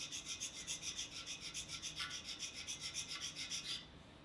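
Hand scraping to deburr a spot on a Monarch 10EE lathe: a steady run of rhythmic rasping strokes, about five per second, close and fairly quiet, stopping abruptly near the end with no talking.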